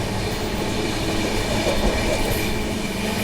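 A steady, loud rumble of the Secunderabad Rajdhani Express running on the rails, heard from inside a first-class AC coach, with continuous wheel and track noise and no voices.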